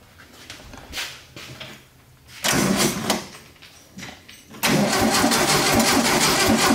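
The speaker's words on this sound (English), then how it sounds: "Let's see what we got on the starter, since it's so easy to get to." Starter cranking the engine of a Volkswagen Arizonan trike found in an airplane hangar, with the ignition on, in two loud sustained bursts after quieter rustling; the second burst continues steadily to the end.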